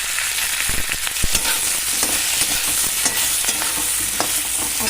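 Chopped capsicum and onion fry in a hot pan for a spicy gram-flour capsicum dish, a steady loud sizzle broken by scraping stirs of the spatula.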